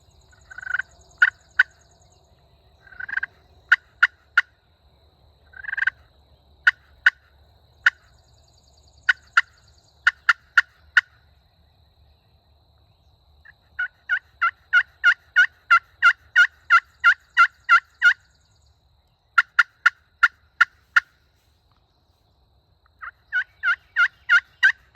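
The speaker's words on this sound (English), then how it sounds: "this bird gobbled a handful of times and goes the other way" A wild turkey in an open field during the late spring season gobbles again and again in quick, rattling bursts, some clustered in long runs and others spaced apart, clear against a quiet background.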